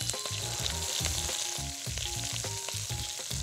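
Shrimp fry in hot oil in a pan, giving a continuous, close sizzle with crackling pops and a low, thumping rhythm underneath. No voices.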